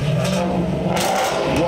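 Ford GT exhaust revving hard with the sport valve open, a loud, close, continuous throaty roar with rising and falling engine pitch.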